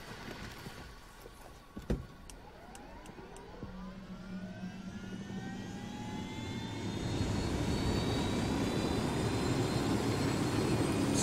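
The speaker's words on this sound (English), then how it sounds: "This helicopter is very loud." A loud video-game helicopter in Ghost Recon Wildlands drones and builds steadily, rising sweeping whine tones over a broad roar, with a sharp thud near the start.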